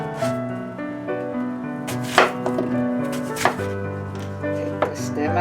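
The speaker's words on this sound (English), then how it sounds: "I cut up and make it a little smaller, more digestible for the Vitamix." A knife chops an apple into smaller pieces on a cutting board, with a few distinct sharp cuts standing out over a steady hum of kitchen background noise.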